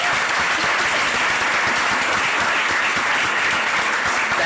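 An audience at a campus debate event breaks into sustained applause, dense and steady clapping from many hands at full loudness throughout, with no pauses and no talk.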